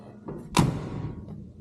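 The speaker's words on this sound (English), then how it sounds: "listen to that door" A single solid thud of a heavy 1963 Cadillac Fleetwood door shutting near the listener, with a brief metallic latch and a short rattling decay afterward.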